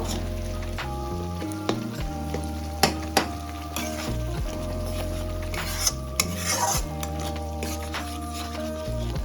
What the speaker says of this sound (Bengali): এবার দিয়ে দিয়েছি টমেটো বাটাটা, দিয়ে এবার এটাকে ভালোভাবে একটু কষিয়ে নেব।